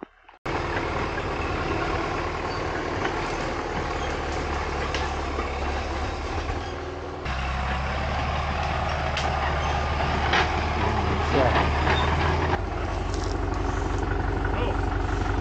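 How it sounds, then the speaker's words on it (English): A Caterpillar D4 bulldozer engine runs steadily with a low, continuous rumble and load changes as it clears ground for a parked 1965 bus, loud and near throughout. "Sounds like bulldozer's working on blazing a new path to push in for that bus."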